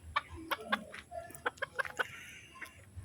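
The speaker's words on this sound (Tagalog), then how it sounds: "Tsaka mayroon daw din silang mga manok." Chickens, including a fighting rooster, tethered in a Philippine backyard cluck in short, separate bursts at close range, with quiet gaps in between and no talking.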